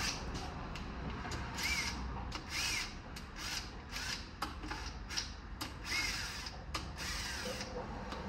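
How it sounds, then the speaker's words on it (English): A speed wrench turns bolts on a GM 3.6L engine, making repeated rapid ratcheting and rubbing bursts close up. The sound is quiet and irregular, with brief pauses between runs. "I'm gonna use this as my speed wrench."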